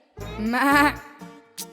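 A voice imitates a goat's bleat, a wavering, nasal cry held for about a second, followed by a short trailing sound and a brief second burst, all close and fairly loud.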